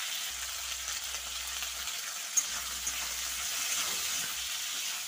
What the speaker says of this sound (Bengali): তো দিয়ে দিচ্ছি নুন আর হলুদ দিয়ে একটু ভালো করে ভেজে নেব।